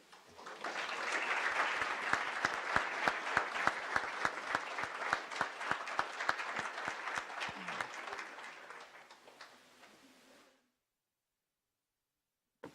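Audience applause follows panel presentations at an ethnic, gender and transborder studies summit, a dense run of many hands clapping steadily for about ten seconds before stopping abruptly, heard alone without talk.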